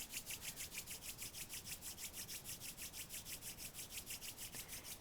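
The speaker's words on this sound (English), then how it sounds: "Rub your hands together." Palms rubbed briskly together, a fast regular swishing friction with about four strokes per second, faint and close with nothing else around it.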